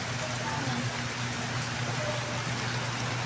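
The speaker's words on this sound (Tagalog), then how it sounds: "Raining season. Umuulan na naman siya." Steady rain falls during the rainy season outdoors, a constant hiss of drops on surfaces at moderate level, with a low background hum and faint voices underneath.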